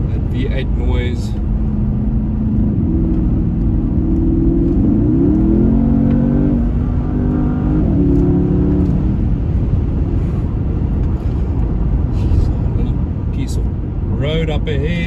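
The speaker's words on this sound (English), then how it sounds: "That V8 noise." Porsche Panamera Turbo V8 (2020) accelerating from inside the cabin, a loud continuous engine drone with rising and shifting pitch across the run, steady throughout and partly mixed with talk.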